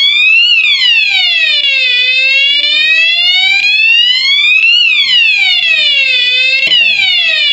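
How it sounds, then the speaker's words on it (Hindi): A fire alarm panel's siren sounds loud and continuous after smoke detectors activate in a fire alarm test, its tone sweeping up and down in slow repeating wails with no talk over it. "ये फायर अलार्म राइज करेगा"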